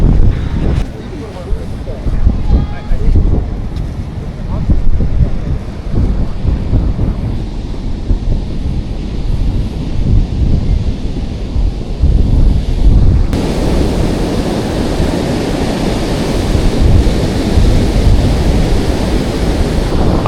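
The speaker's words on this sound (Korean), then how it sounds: "비가 그친 뒤에 지금 해운대는 정말 멋있는 파도가 저를 반겨주고 있습니다" Ocean waves and strong wind at Haeundae beach in Busan after rain, a loud continuous roar of surf with heavy wind buffeting the microphone throughout.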